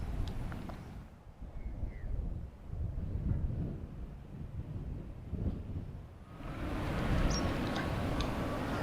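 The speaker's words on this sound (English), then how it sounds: "The southeasterly wind is pumping" Strong southeasterly wind blowing on a beach, heavy buffeting rumble against the microphone, gusting and easing throughout, with a brighter rush at the start and end.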